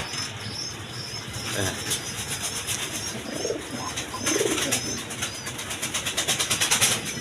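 Pigeons coo nearby in soft, repeated rounds over a steady background hum, and the cooing grows stronger and more rhythmic toward the end.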